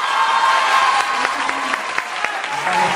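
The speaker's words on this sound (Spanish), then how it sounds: "lo que provocó abucheos por parte de los estudiantes" Students at a university event jeer as a talk ends, a loud, dense crowd roar mixed with clapping and scattered shouts, with voices close in the mix.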